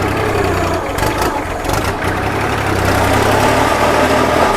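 A Kubota L3408 tractor engine runs steadily at close range, a loud continuous diesel rumble with no talk over it.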